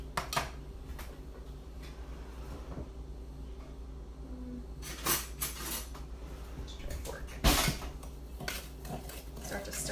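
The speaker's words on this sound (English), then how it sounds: "Start to stir that in." A spoon stirs baking soda in a bowl for homemade deodorant, clinking and scraping against the sides in scattered light taps over a steady low background hum, with a few louder knocks.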